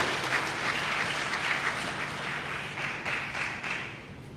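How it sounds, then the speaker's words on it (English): Applause from an audience at the inauguration of a heavy equipment operator training workshop, a sustained dense patter of many hands clapping that fades slightly toward the end. "Please, another big round of applause, ladies and gentlemen."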